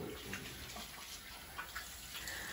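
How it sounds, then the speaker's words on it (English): Water runs steadily from a bathroom tap, a constant faint hiss and splash that stays even throughout, with no voices over it. "you just got the water sitting there running"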